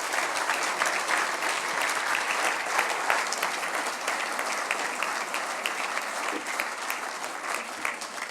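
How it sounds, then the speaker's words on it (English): An audience at a motoring awards ceremony at the Royal Automobile Club gives sustained applause, a dense, even wash of many clapping hands that continues steadily for several seconds without speech. "Big round of applause, please, for Christopher Rolfe"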